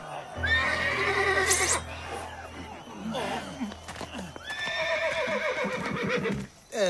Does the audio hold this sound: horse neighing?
yes